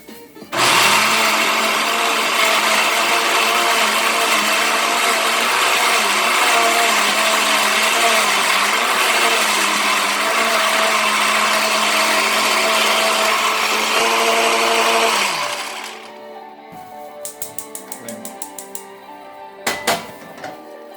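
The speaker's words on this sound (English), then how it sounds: "Turn the blender on." A blender roars loudly and steadily for about fifteen seconds, then whirs down and stops, leaving a few clicks and clatters.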